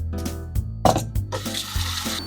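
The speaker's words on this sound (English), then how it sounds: "you wanna wash it until the water that comes out of it is clear" Rice is washed in a bowl under a running kitchen tap, with water splashing and trickling in short irregular bursts, close and moderately loud, with no talking.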